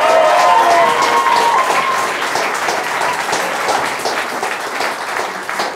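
Steady applause from a live studio audience greeting the host's father, Mark Tincknell, on a talk show, dense and sustained throughout, easing slightly toward the end.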